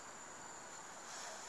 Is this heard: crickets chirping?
yes